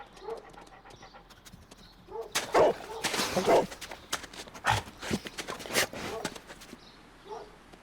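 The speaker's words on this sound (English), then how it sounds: "Toby's a basset hound" Barks from Toby, a basset hound with big floppy ears, in the Sherlock Holmes: Crimes & Punishments video game, several sharp loud bursts in the middle of the stretch with panting-like breaths and soft game ambience around them.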